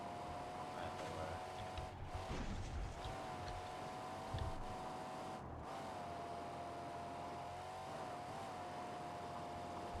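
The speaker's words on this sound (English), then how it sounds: "So in the soundscape, you pretty much hear all the cars going that far." Distant cars driving in the Mad Max video game, a steady far-off engine drone with a faint whining tone running under the whole stretch, with no talk.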